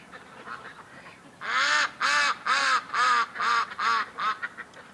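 Ducks quacking close by in a run of about eight loud, evenly spaced nasal quacks that start after a quiet moment and continue in a steady rhythm, with no voices over them.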